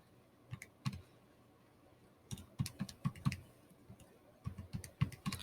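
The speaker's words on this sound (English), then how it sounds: "And I'm just typing it all into the calculator at the same time." Calculator buttons pressed in quick irregular clusters of soft clicks, close and quiet, with short pauses between runs of keystrokes.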